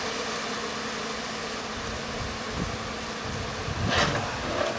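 Honeybees buzz during a hive removal, a faint continuous hum of many bees with no talk over it.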